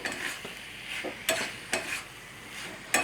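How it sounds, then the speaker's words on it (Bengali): A spoon stirs shrimp and banana flower curry in a pan, making soft sizzling scrapes with several distinct clanks of metal against the pan at uneven intervals. "এবার এটা ভালো করে একটু নাড়িয়ে নিয়ে"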